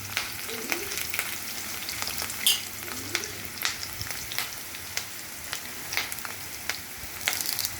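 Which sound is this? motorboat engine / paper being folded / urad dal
urad dal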